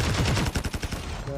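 AK-47 gunfire in the video game Call of Duty Mobile, a quick close burst of rapid automatic shots in a tight rhythm lasting about a second before cutting off.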